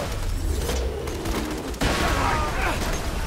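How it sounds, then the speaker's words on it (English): Grenade blast and gunfire in Borderlands 2, a dense burst of loud explosive noise with a sharp crack partway through, running continuously under the game's action. "I think I hurt myself with my own grenade"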